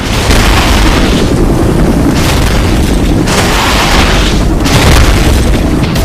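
Enemy super mortar shells explode in a video game, a dense, loud, continuous barrage of overlapping booms and rumbling blasts with no pauses.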